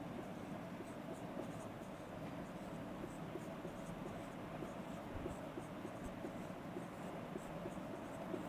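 Marker or chalk strokes on a board during a chemistry lesson on f-block elements: faint, continuous scratching over a steady background hiss, with no talking.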